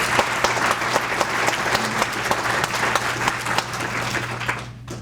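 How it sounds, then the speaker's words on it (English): A political rally crowd in Macomb, Illinois claps for itself, a full, sustained round of applause from many hands over a steady low hum, tapering off at the very end. "So give yourselves a round of applause for coming out."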